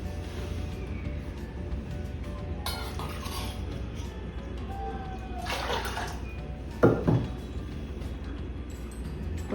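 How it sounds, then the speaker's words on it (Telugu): Water runs from a tap into a steel pot of washed dal in a home kitchen, a soft steady trickle with a few metal clinks and knocks of the pot, fairly quiet. "దీంతోనే 2 గిన్నెలు వాటర్ వేసుకుంటున్నానండి."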